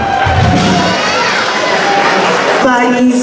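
Banquet audience at a parish club's 25th anniversary celebration in Chicago, a loud, steady crowd roar of applause and cheering with raised voices and some tonal background sound throughout.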